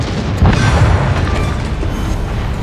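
Enemy cruiser blowing up in a naval warfare video game, a loud heavy boom that swells into a long rumbling roar, filling the whole stretch with dense low-end blast noise and no voices.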